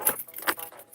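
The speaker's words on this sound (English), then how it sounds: "there went my keys" A bunch of keys drops and jangles in a brief metallic clatter during an Instacart delivery shift, close and fairly loud.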